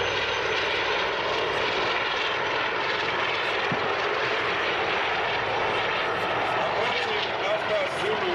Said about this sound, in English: And this is now the Mi-24 attack helicopter.